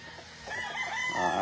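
A young local banded stag rooster gives a single crow that rises and stretches out over about a second, moderately loud against quiet farm background with no talking.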